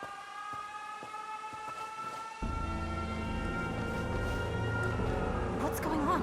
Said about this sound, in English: That sounds, unfortunately, like an air raid siren.